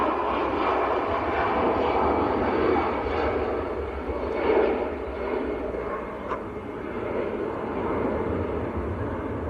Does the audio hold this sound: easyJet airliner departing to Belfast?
yes